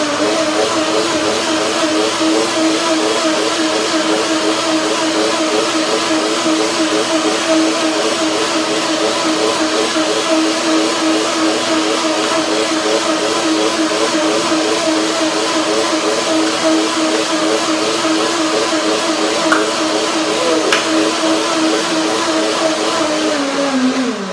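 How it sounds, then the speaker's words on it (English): A blender runs steadily and loudly, whirring a chives, tahini and mayonnaise dressing in one continuous drone for the whole stretch, with its pitch sagging slightly right at the end. "And I'll blend it again a second time."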